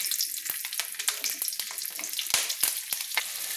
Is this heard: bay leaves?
yes